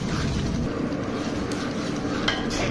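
Masala being fried in ghee in a pot for aloo gosht, a steady close sizzle with occasional scraping and clinks of a spoon stirring against the metal, unbroken by talk.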